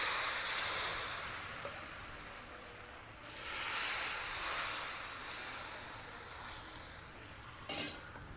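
Rava dosa batter with chopped onion hits a hot pan and sizzles, a loud frying hiss that fades, swells again as more batter is poured, then settles into a softer steady sizzle.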